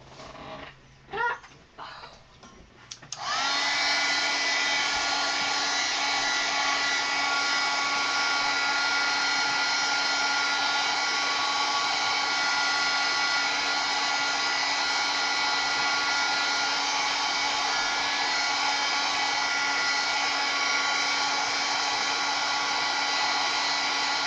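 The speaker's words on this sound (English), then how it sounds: "And we're going to hit that with the heat gun." Heat gun blowing over a mixed media canvas to dry paint layers, a loud steady whooshing roar that starts after a few seconds of quiet handling noises and holds evenly to the end.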